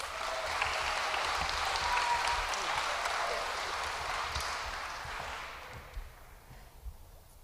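Crowd applause at a middle school awards assembly, many hands clapping steadily and fairly loudly, then thinning and trailing off toward the end, with a few scattered claps and faint voices as it fades.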